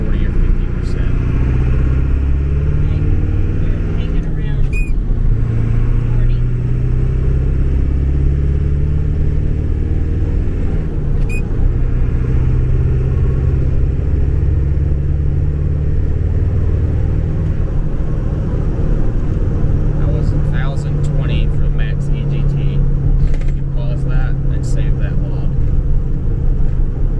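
Diesel engine of an OBS Ford Powerstroke truck held at part throttle, a loud steady low rumble droning for the whole stretch with occasional clicks and short voices over it.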